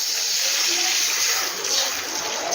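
Water is poured from a bowl into a semolina mixture seasoned with a little black pepper, a continuous bright splashing gush heard close up and alone for the whole stretch.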